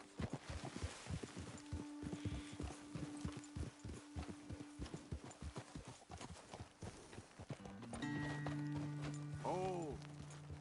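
Steady hoof clip-clop of horses walking in the video game Red Dead Redemption 2, rhythmic and close, with a brief whinny and some rumbling near the end.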